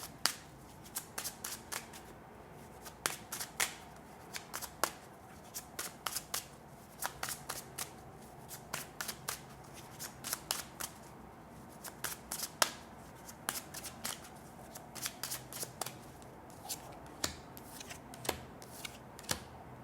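Tarot cards shuffled by hand for a reading, a long run of crisp riffling flutters and soft slaps repeating in quick bursts, close and quiet with no talking.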